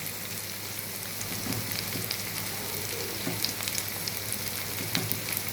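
Chili powder going into shallots sautéing in a frying pan, a steady soft sizzle with scattered faint crackles throughout, moderately quiet and close, with no one talking.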